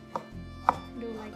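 A knife cuts through sausage on a board while cooking Korvstroganoff, giving two crisp, quiet chopping taps spaced about half a second apart with no talking.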